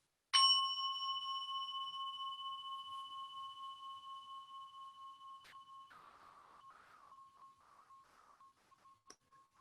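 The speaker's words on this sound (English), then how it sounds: "I've got a little bell here" A small meditation bell is struck once and rings with a clear, pure tone that slowly decays over several seconds, followed by faint small knocks and a brief second ping near the end.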